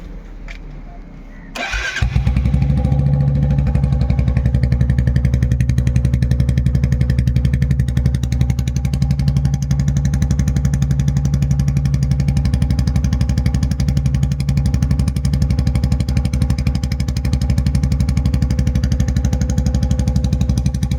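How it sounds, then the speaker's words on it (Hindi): A Royal Enfield motorcycle with a new aftermarket exhaust and silencer, cold-started in winter: a brief starter crank, then the engine catches and settles into a loud, steady, thumping idle that runs on close by. "ये साइलेंसर तो पहले से ले रखा था। साइलेंसर पूरा अपना एग्जॉस्ट सिस्टम चेंज है। तो इसका कोल्ड स्टार्ट चेक करो।"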